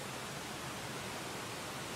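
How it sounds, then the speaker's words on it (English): Waterfall ambience, a steady broadband rush of falling water, constant and even with no breaks, moderately quiet and heard alone. "Waterfall."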